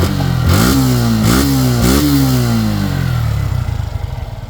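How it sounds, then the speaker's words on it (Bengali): A second-hand 2024 Suzuki Gixxer Naked fuel-injected motorcycle engine runs loudly, revving up three times in quick bursts before settling into a steady, throbbing idle. "এখন স্টার্ট করে সাউন্ড কন্ডিশন দেখাবো দর্শক এটা স্টার্ট অবস্থায় আছে"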